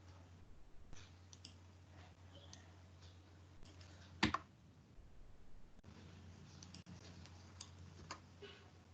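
Faint, irregular clicks of keys as code is typed on a computer keyboard during a programming lesson, scattered over a steady low hum with one louder clack midway.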